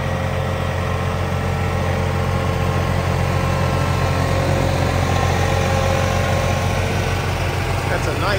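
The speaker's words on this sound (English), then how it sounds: "I have to ask Darrin what horsepower his tractor is." A diesel tractor engine of about 30 horsepower rumbles steadily at idle, loud and close, with a constant low throb throughout.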